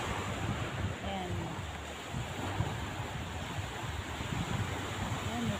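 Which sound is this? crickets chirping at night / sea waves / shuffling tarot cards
sea waves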